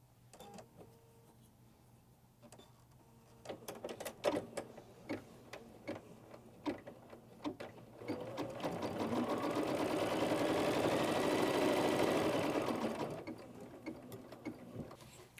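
An embroidery machine stitches a quilted snowflake block in the hoop, first with scattered mechanical clicks and taps, then a steady loud run of rapid stitching that builds and stops near the end, with no talk.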